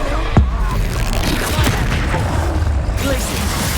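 Confringo fire spell blast in the Hogwarts Legacy video game on hard difficulty, a booming burst with a sharp onset followed by a dense rumbling din, with voices heard amid the fight.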